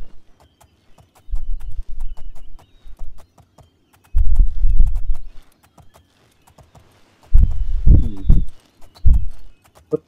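Horse hooves clip-clop in the video game Oblivion, coming in three loud bursts of rapid steady beats separated by near-silent pauses, with no talking over them.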